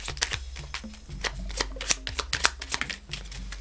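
A tarot deck being shuffled by hand, close and crisp, with quick riffling flutters and card slaps repeating across a few seconds, no voices.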